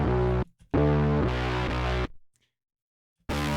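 A harsh, buzzy synth distorted with the Destructor plugin in FL Studio plays sustained notes in short bursts, loud and gritty, with brief silent gaps between.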